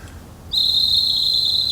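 A Brazilian cricket whistle starts abruptly and holds a piercing, steady high trill imitating crickets, loud and close after a brief quiet lead-in.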